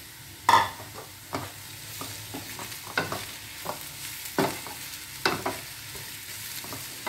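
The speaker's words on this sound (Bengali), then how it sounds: "মাশরুমগুলো দিয়ে আমি ভালো করে নেড়ে নিচ্ছি।" Chopped mushrooms with chili flakes being stirred in a frying pan, a soft sizzle under distinct spatula scrapes and knocks at irregular intervals, close and fairly quiet.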